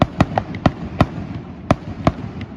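Fireworks burst in a rapid irregular series, sharp loud cracks and booms at varying distances, roughly a dozen within a few seconds against a rumbling outdoor background.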